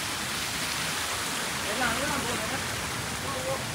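A small waterfall on a rainy hillside trail in Sri Lanka makes a steady, broad hiss of flowing water that fills the whole short stretch, with faint speech in the background.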